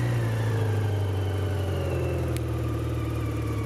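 A 2008 BMW K1200LT motorcycle engine running close by, a smooth, steady low hum with even mid-range tones and a single sharp tick partway through, with no talk.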